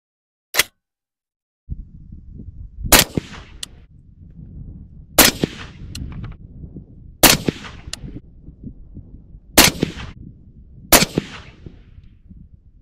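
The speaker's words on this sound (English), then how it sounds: "I'm going to put 5 rounds out of the SR25 on the top dot" An SR25 semi-automatic rifle fires five rounds at a target 100 yards away: loud, sharp reports spaced about two seconds apart, each with a decaying tail, over steady outdoor background noise and preceded by a brief click.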